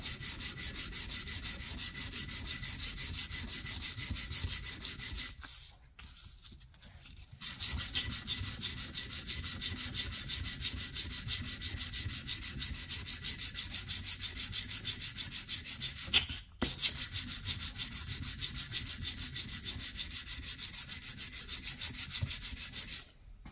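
Hand sanding of a Dnepr 650 motorcycle engine tappet with 150-grit sandpaper wetted with WD-40 to rectify porosity: a steady, close, rapid back-and-forth rasping scrub that runs continuously, pausing briefly twice.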